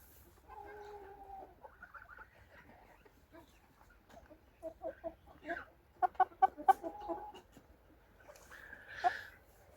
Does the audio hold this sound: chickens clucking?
yes